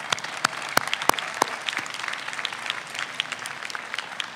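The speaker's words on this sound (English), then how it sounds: "Let's give them a round of applause one more time." An audience at a business school graduate diploma ceremony applauds the doctoral graduates, a steady wash of clapping from many hands with a few louder nearby claps standing out, continuing throughout.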